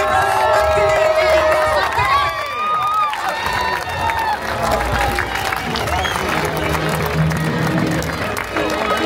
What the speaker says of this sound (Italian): Un grande applauso a Nicolò Martinelli!